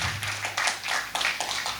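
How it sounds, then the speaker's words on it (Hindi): A short burst of clapping for an editing team at an academy foundation day event, with uneven, scattered hand claps from a small audience. "सबसे पहले तो एक बार एडिटिंग टीम के लिए तालियां हो जाए।"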